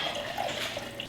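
Water runs from a kitchen tap into a container, a steady close splashing gurgle that fills the short moment without any talk.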